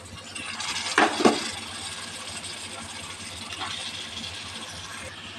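Broad beans (avarakkai) tipped into a pan of cooked tomato and masala for a gravy, with a couple of sharp metallic clanks of spoon on pan, then a steady low sizzle and gentle stirring scrapes.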